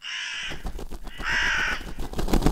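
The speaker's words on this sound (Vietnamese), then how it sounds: "Ví dụ như là tiếng quạ kêu nè" A crow caws as an added sound effect, two long harsh rasping calls in sequence over a low rumbling background, close and loud.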